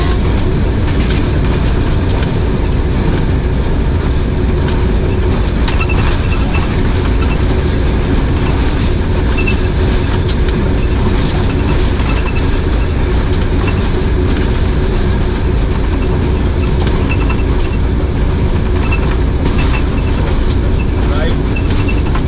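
The Kohat Express rolls along the rails between Kohat Cantonment and Rawalpindi while passing through a station, a loud, constant rumble with rhythmic clicking of the wheels that lasts the whole time.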